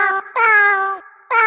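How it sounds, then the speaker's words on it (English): A cat meow sample played on a sampler keyboard, three drawn-out, tonal meows at different pitches, loud and close, with short gaps between them. "that is me playing some scales with a cat sound mapped to the keyboard."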